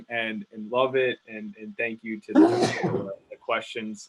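A person lets out a single abrupt sneeze midway through speech at a startup pitch competition; talk is heard both before and after it.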